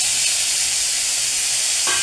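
Raw onion and green chili frying in hot mustard-style cooking oil for a potato greens dish, a steady bright sizzle close up with a short clink near the end, no speech.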